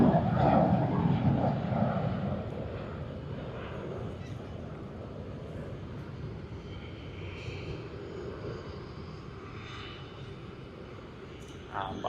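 A Jetstar airliner at Sydney Airport roars loudly at first, then settles into a steady, fading jet rumble that carries on at a distance.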